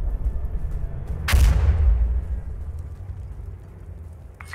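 Frag grenade detonating in the tactical shooter Insurgency Sandstorm, a single heavy boom with a long rumbling low tail that fades over a few seconds, no talk over it.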